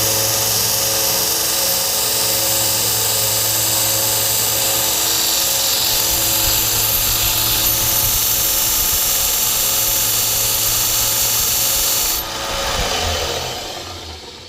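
A belt grinder whines loudly and steadily as it cleans mill scale off bicycle steel tubing, a constant high abrasive hiss and hum that cuts off near the end and winds down.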